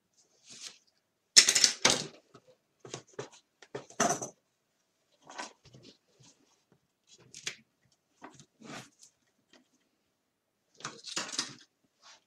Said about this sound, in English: I've got myself a little serrated knife and I am just going to cut